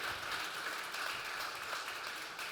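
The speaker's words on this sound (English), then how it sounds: "join me for a round of applause, for the panelists" A workshop audience at a business conference applauds the panelists, a steady, even wash of many hands clapping at moderate, somewhat distant level with no talk over it.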